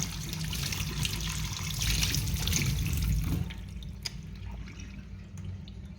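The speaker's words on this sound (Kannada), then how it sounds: "ಈಗ ಇದನ್ನು ಬೊಂಡಾಸ್ ಮೀನನ್ನು ಚೆನ್ನಾಗಿ ಟ್ಯಾಪ್ ವಾಟ್ರಲ್ಲಿ ತೊಳೆಯೋಣ" Tap water runs and splashes steadily over squid being washed by hand, a loud, close trickle that drops to a quieter flow partway through, with no talk.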